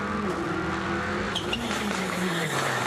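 Onboard a WRC2 rally car driven by Oliver Solberg with co-driver Elliot Edmondson at the Rallye Monte-Carlo 2024 shakedown, the engine revs loud and steady with shifting pitch and brief tyre noise, under commentary.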